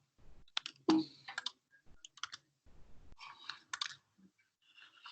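Quiet, irregular bursts of typing on a computer keyboard, short clusters of key clicks separated by pauses, close to the microphone with no talk.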